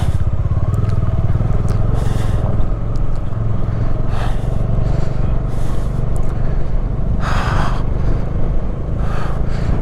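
A motorbike rides a scenic mountain road in the Spiti Valley on a cold morning, its engine a steady, close drone mixed with wind rush that runs unbroken for the whole stretch.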